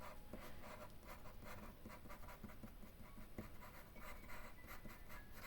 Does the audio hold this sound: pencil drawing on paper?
yes